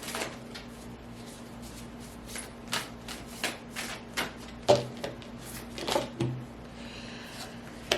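Oracle cards are shuffled by hand close by, a steady papery riffling broken up by soft taps and slaps as the deck is squared. No one speaks.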